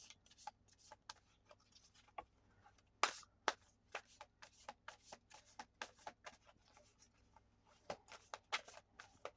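Tarot cards being shuffled make a string of soft, quick flicks and taps in an irregular rhythm, close but quiet against a low steady background hum.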